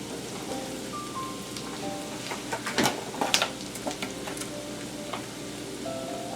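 Fat rendering in a pan over medium-low heat for a Bordelaise sauce, a steady close sizzle with faint crackles and a few louder pops and clatters near the middle, with no voices.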